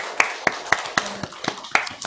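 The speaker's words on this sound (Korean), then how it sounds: "우리 다시 한번 하나님께 영광의 박수 올립시다" Church congregation clapping in unison after a prayer at a Sunday afternoon worship service, sharp rhythmic claps landing about four per second, close and distinct, with a faint voice beneath.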